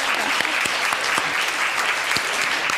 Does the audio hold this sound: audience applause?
yes